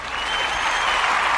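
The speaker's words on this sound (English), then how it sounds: "We're going to give her a round of applause." An audience in a live podcast studio bursts into sustained applause, a dense, even wash of many hands clapping throughout, loud and close, with no voice over it.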